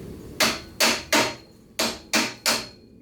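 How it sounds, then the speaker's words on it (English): A rubber mallet knocks on parts of a Shopsmith Mark 4 woodworking machine, six sharp, evenly spaced strikes in two groups of three, close and clear with no talking. "I take a rubber mallet and do a little hammering"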